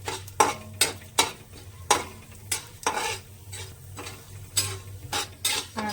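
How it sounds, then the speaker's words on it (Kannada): Urad dal and chana dal fry in oil in a pan for a ridge gourd chutney, giving a steady sizzle. A spoon scrapes and stirs in sharp, repeated strokes about twice a second. "ಇವಾಗ ಇದನ್ನು ಸ್ವಲ್ಪ ಕೆಂಪಿಗೆ ಫ್ರೈ ಮಾಡ್ಕೋಬೇಕು."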